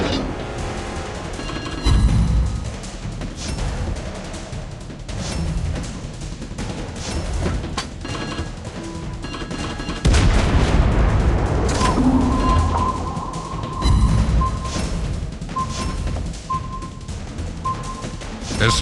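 Airstrike and naval gunfire in World of Warships during a naval battle with a cruiser, dense continuous booms and blasts layered over rumbling battle noise, loud and close throughout.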